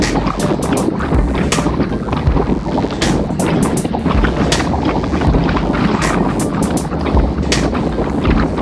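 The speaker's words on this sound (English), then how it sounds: "That's the wind you're hearing that we're fighting the whole day." Strong wind buffets the microphone during a group road bike ride on Mount Pleasant Road, a loud, continuous roaring rush with gusty swells and no talk.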